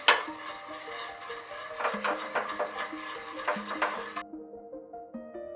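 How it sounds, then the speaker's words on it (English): Cocoa powder being stirred into oil in a mixing bowl for a red velvet cake, a steady run of soft scraping and light clinks of utensil against the bowl, close up, with a melodic background tune. "we're going to add the cocoa powder to it. And we're going to mix that in."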